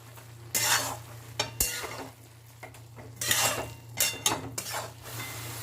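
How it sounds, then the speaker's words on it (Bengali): Cabbage stir-frying over a medium-high flame with sugar and slit green chillies for a festive Bengali cabbage ghonto: a spatula scrapes and clatters against the pan in repeated bursts over a soft sizzle and a steady low hum, with no talking. "মিডিয়াম টু হাই ফ্লেমে রেখে এবার বাঁধাকপিটাকে ভাজা ভাজা মতো করে নেব"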